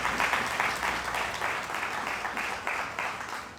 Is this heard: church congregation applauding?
yes